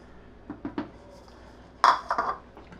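A few light metallic clinks and knocks, then a louder cluster of clattering taps as the large steel mixer jar is handled up close while making dhokla batter.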